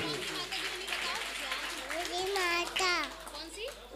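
An audience at a Jain cultural program in India claps in a scattered, sustained patter, mixed with children's chatter and a voice speaking over it.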